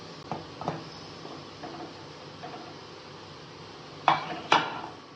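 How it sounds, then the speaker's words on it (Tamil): A pressure cooker lid is closed over simmering mutton gravy in a home kitchen: a few light metal clinks, then two sharp, close metallic clanks near the end against quiet background hiss. "குக்கரை மூடி 4 நிமிஷம் விட போகிறேன்"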